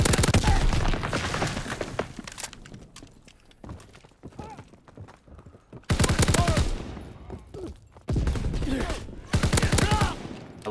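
Bursts of automatic gunfire from a multiplayer shooter video game, coming in several loud rapid volleys separated by short pauses and quieter game sounds.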